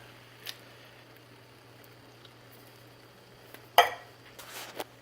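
Spoon stirring scrambled eggs with canned Rotel in a pan, with a few faint scrapes and clinks of the utensil against the pan, ending in a louder cluster of scraping near the end over a quiet background.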